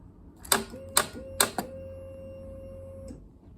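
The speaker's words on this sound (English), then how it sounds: "Turn her over, see if she cranks." Polaris 850 starter clicking without cranking the engine: three sharp clicks in quick succession, then a steady electrical hum that runs for a couple of seconds before cutting off, fairly close and clear.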